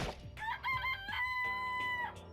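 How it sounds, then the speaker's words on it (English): A video game chicken from Danganronpa: Trigger Happy Havoc clucks a few times, then stretches into a long held crow-like tone, close and clean with no talk over it. "I do like the chicken noise."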